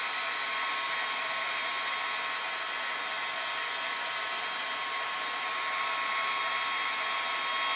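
A handheld craft heat tool blows steadily to melt white embossing powder on a stamped card, giving a constant loud whooshing hiss with no pauses and no talking.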